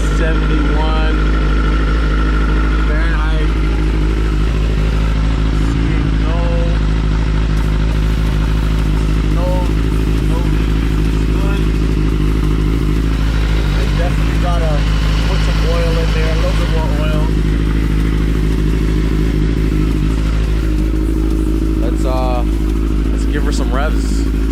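A 2003 Suzuki GSX-R motorcycle idles steadily after a clutch plate install, a low continuous engine drone running throughout, with someone talking intermittently over it.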